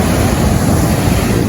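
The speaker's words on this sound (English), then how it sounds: "Now this is a rough water" Rough sea surges against Jamaican sea cliffs, a loud, continuous roar of churning water mixed with wind buffeting the microphone.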